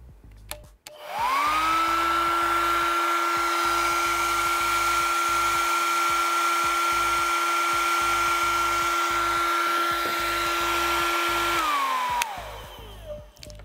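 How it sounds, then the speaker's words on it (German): A handheld hair dryer switches on and runs at about 90 decibels, a loud, steady whine with a constant tone that holds for around eleven seconds before winding down and cutting off. "Für Föhnen sind ca. 90 Dezibel normal"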